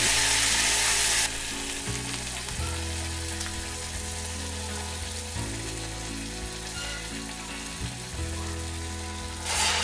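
Vada batter fries in hot oil with a loud, continuous close sizzle and bubbling that holds steady throughout, accompanied by a low mechanical hum, with no voices.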